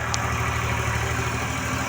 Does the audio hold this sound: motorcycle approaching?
yes